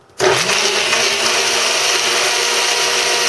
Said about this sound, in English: This blender is like a jet engine.